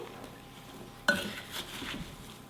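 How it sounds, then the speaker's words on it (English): A spoon stirs apple pie filling in a bowl, giving one sharp clink followed by a stretch of soft scraping and clattering, close and fairly quiet with no talking. "We're going to put it in the apple mixture and give it a stir again."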